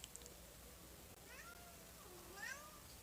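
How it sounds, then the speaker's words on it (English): A cat meows twice in a quiet indoor room, the calls brief and fairly soft, with faint background hiss and no talking. "What are you meowing about, Sherlock?"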